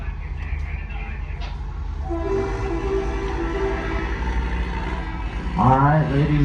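A train rumbles past close by, steady and loud, ending with a blaring horn that sounds twice near the end.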